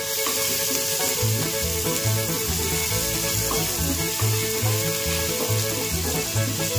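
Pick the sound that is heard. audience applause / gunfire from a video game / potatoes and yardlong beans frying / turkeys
potatoes and yardlong beans frying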